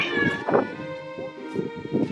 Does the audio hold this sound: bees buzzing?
no